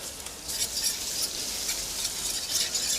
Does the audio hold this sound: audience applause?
no